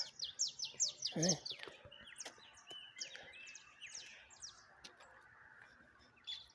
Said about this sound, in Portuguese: Tem muitos pássaros, né? Coleirinha, canarinho da terra